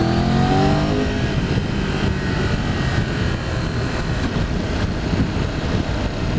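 Triumph Tiger 1200 GT Explorer motorcycle engine revving through a gear change, a loud, close, steady drone with a brief rising rev at the start and constant road rumble beneath.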